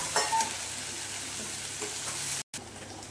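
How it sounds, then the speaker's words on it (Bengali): Spice paste for a katla fish curry fries steadily in a pan, a continuous close broadband sizzle with light stirring scrapes, briefly cutting out near the end before resuming. "বন্ধুরা, এবার এই পেস্টটা দিয়ে কষে নেব"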